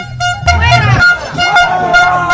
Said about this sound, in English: there's nothing he could do about this guy blowing an air horn